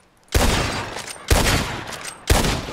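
Three loud gunshots ring out in Red Dead Redemption 2, evenly spaced about a second apart, each sharp crack trailing into a long echoing decay.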